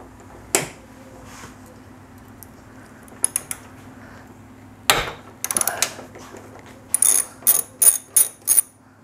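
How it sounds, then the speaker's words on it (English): A ratchet with a 12 mm socket tightens a bolt on an aftermarket ditch light bracket for a Lexus GX470, starting with scattered metallic clicks and building into a run of crisp, regular ratcheting strokes, close and clear. "you'll need a 12 millimeter socket for this"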